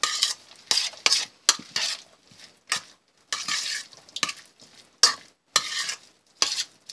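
Egg salad being mixed in a bowl produces irregular bursts of wet stirring and scraping with soft utensil clinks, close by, separated by short pauses and with no talk.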